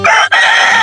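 A rooster crows loudly and close by, one strained call broken by a short gap partway through, with no voices present.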